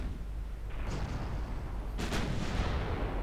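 Battleship secondary guns fire during a naval battle in the video game Ultimate Admiral Dreadnoughts, a steady rumble of distant cannon booms with a sharper blast near the middle, continuous and fairly loud.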